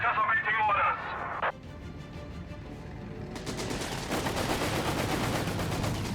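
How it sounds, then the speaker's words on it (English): Rapid anti-aircraft gunfire from a Flak 36 in Company of Heroes 3, a dense ongoing burst of repeated shots in a WWII battle, following a brief stretch of talk and quieter battlefield noise. "There's the Flak 36 and the pack 40's just one-shotted."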